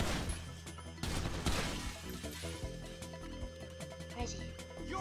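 Pistol gunfire in the video game GTA V: a few sharp shots over busy game sound and music, fairly quiet and partly masked.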